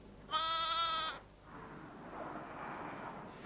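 A ewe and her lamb bleat, one clear harmonic bleat up close followed by a fainter, rougher call trailing off.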